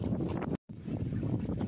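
Wind rushes across the microphone while sailing a boat, a steady broadband roar with one short dropout.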